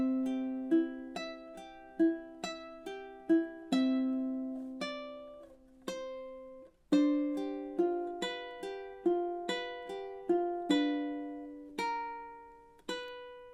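Fingerstyle ukulele plays the opening four bars of Spanish Romance as a clear plucked melody over ringing notes in a flowing triplet-like pattern, with a brief pause midway, solo and close.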